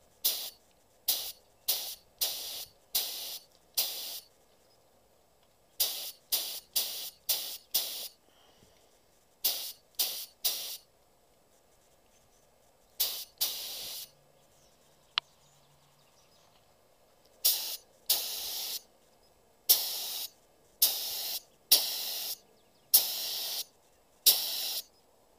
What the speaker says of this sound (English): Let's adjust my spray pattern here.